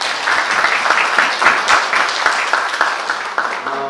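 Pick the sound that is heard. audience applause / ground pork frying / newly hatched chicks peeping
audience applause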